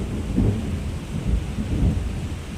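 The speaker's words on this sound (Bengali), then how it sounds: "এই যে বৃষ্টি হচ্ছে" Rain falls steadily with a low, dense wash of noise and deep rumbling swells, like a downpour heard from close by.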